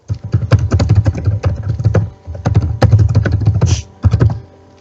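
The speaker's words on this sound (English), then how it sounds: "Who's typing?" Rapid typing on a computer keyboard comes in close, loud bursts of clustered key taps, pausing briefly before starting again.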